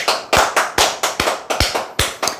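An audience at a Korean sales-coaching talk claps hands together in a steady, rhythmic burst of loud, close claps, with no voices over it.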